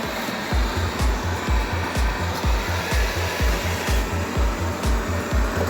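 A repaired Xiaomi Mi Robot Vacuum Mop 2 Lite runs in a power test with a steady loud whirring drone and rhythmic pulsing, continuous throughout with no talking.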